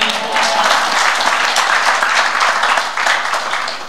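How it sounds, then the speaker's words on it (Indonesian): A church congregation breaks into sustained applause during a sermon, a full, continuous roar of clapping that holds steady and eases slightly near the end. "Beri tepuk tangan baginya."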